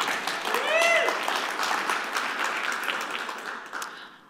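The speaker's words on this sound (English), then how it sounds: "Thank you for the claps" An audience at a talk on facial recognition and police oversight claps steadily, loud at first and then gradually thinning out, with a brief squeal of feedback early on.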